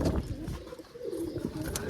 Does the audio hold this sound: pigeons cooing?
yes